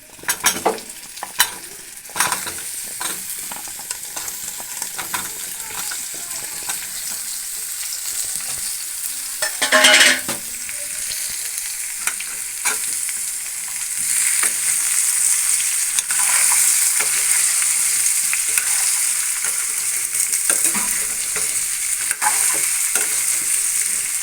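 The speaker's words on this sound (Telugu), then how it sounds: "ఇప్పుడు గుమ్మడికాయ కూడా వేసేస్తున్నాను." Pumpkin curry cooks in a pan with turmeric, giving a steady close sizzle of frying that holds throughout, broken by scraping stirs and a few sharper clinks of a spoon against the pan.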